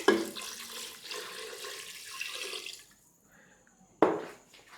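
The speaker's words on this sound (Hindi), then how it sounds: "अब 3 कप पानी मैं डाल रही हूँ" Three cups of water are poured into a cooking pot of mutton and okra in a steady splashing stream for a few seconds, stops, then a short second splash follows.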